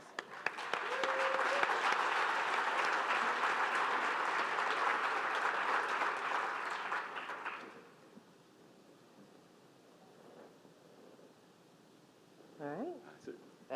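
An audience gives a round of applause at the close of a live event, loud and dense for about seven seconds before it fades to a quiet room where a voice briefly speaks.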